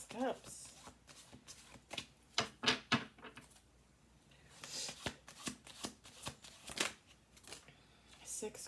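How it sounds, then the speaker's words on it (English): Tarot cards are shuffled close by in quiet, repeated bursts of riffling and slapping, with short pauses between handfuls and soft talk in between. "we might do one or two more shuffles"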